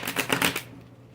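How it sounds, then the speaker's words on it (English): A quick riffle of tarot cards being shuffled, a short burst of papery flutter that fades out after about half a second. "I love when the cards just shuffle so easily"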